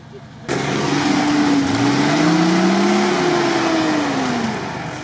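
An off-road vehicle's engine revs hard in one long surge as it drives over a wet obstacle, the pitch rising and falling before easing off, with people talking nearby.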